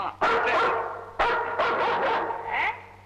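An Alsatian dog barks in a comedy film scene, giving several loud, close barks and yips in uneven bursts over a faint steady hum.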